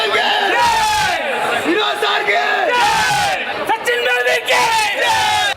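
A large crowd of fans roars and whoops continuously to welcome the Kerala Ranji Trophy cricket team arriving at Thiruvananthapuram, with loud sustained chanting and yelling throughout, rising and falling in waves.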